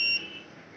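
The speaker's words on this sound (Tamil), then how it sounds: "வெயிட் பண்ணிங்கன்னா பீப் சவுண்ட் கண்டினியூஸாக பீப் சவுண்டு வந்து ரெட் லைட் எரியும்." An ESSL X7 fingerprint and card reader gives one short, sharp electronic beep during user enrollment, loud and close, then fades to a faint hum.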